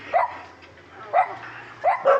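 A dog, tied up, barks three or four times at a moderate distance, the barks spaced out with a quiet pause between the first two.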